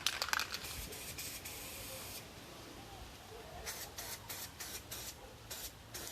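Spray paint hisses from a can in short, close bursts, a longer spray first and then a quick run of pulsed sprays, fairly faint and with no talk over it.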